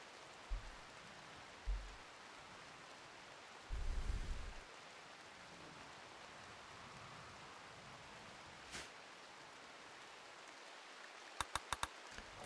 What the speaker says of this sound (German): es regnet, Feuer ist fast gelöscht